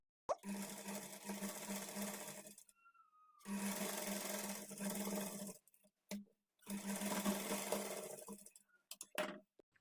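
A sewing machine stitching along the folded edge of a blouse strip, running in three long, steady whirring bursts separated by brief pauses, ending with a few short stop-and-start runs.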